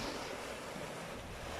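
Sea waves washing over coastal rocks at Benidorm, Spain, a soft continuous hiss of surf with a little wind, steady and unbroken with no voices.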